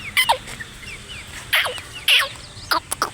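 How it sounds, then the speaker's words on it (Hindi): Chickens cluck in a village yard in the morning, a few short bright calls spaced irregularly over quiet low background noise, moderately close. "मुर्गियाँ देखें यार कितनी खूबसूरत लग रही हैं सुबह।"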